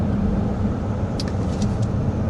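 A 2026 Kia Carnival hybrid minivan accelerating up to 60 mph, heard from inside the cabin as a steady low engine and road rumble with a few faint ticks, and no talking.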